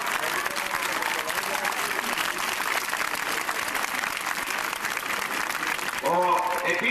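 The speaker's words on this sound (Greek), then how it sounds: "Θερμός χειροκρότημα" Warm, sustained applause from a large outdoor rally crowd in Athens, a dense wash of clapping that holds steady throughout, with a voice rising over it near the end.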